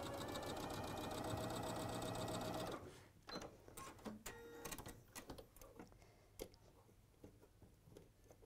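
A sewing machine runs a quilt and bag pattern along marked lines. A loud, rapid stretch of stitching lasts a few seconds, then the sound drops to quieter intermittent clicks and handling noises nearby.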